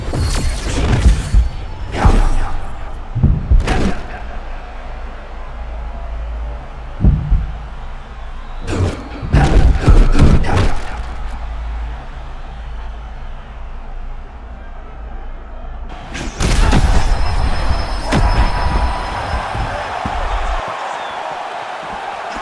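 Punches landing in EA Sports UFC 6 during a Patricio Pitbull vs Darren Elkins bout, heavy thuds arriving in scattered bursts, some in quick pairs, over a steady arena crowd murmur.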